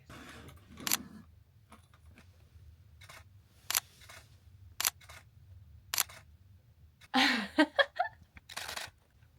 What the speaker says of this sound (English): I'm just taking some slow shutter shots before it does